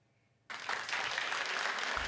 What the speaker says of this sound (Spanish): el ahora ex primer ministro Boris Johnson saliera este martes rodeado de aplausos de la que fuera su oficina